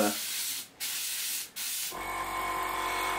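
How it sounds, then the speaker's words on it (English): An airbrush sprays thinned Mr. Colour paint in short bursts, giving a close, steady, airy hiss that stops briefly twice before a longer continuous spray with a faint hum underneath. "let's just see how that's spraying"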